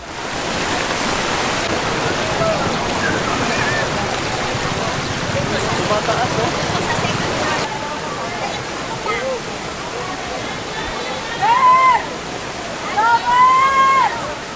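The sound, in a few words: floodwater rushing through streets in Manila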